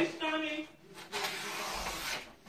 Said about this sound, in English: you cut the bottom just like so